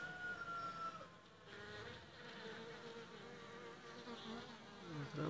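Italian honey bees, Cordovan and Ligustica, buzz steadily on a hive frame, a dense, close, continuous hum of many wings with shifting pitch and no talk.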